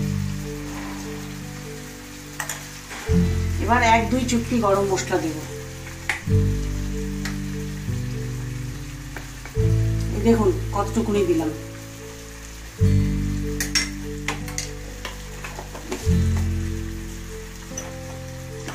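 Boal catfish slowly fries over low heat in a covered pan, making a soft, continuous rain-like crackle and patter. Someone talks over it at intervals, and a low steady hum runs in the background.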